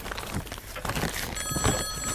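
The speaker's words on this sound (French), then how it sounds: "Le téléphone." A telephone rings in a cartoon scene aboard a ship where a captain is being woken, a busy, clattering ring that fills the whole short stretch with no clear pauses.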